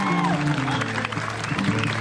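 Crowd applause and cheering at a rural bull-riding event in Concepción Guerrero, Putla, Oaxaca, fill the clip steadily, loud and dense, with a sustained musical tone or voices underneath.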